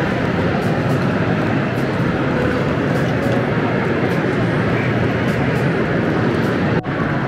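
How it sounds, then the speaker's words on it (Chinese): Steady, dense ambience inside one of the oldest train stations on a quiet Sunday, with a broad rumbling wash of noise, faint distant voices and a brief soft knock near the end. "这是最老的火车站之一了。"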